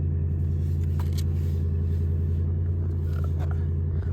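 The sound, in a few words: truck rumbling outside the window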